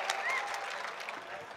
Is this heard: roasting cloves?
no